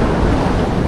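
Sea waves breaking on the beach at Lazarevskoye, a loud broad roaring wash mixed with wind buffeting the microphone, with no talk.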